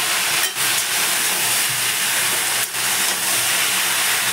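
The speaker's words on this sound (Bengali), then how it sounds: "উচ্ছে আলু বেগুন কেটে রেখেছি, এবার দিয়ে দেবো তেলের মধ্যে" Bitter gourd, potato and eggplant cut into pieces hiss and sizzle loudly in hot oil over spiced paste, a steady broadband frying noise with a couple of brief dips as the vegetables are stirred.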